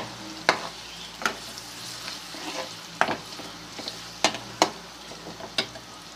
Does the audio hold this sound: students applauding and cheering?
no